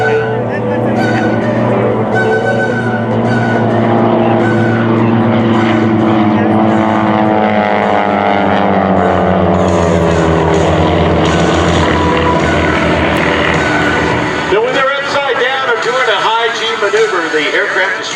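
Two aerobatic planes fly past at an airshow, one of them upside down, their propeller engines droning loudly with a slowly sliding pitch, while an announcer talks over the noise throughout.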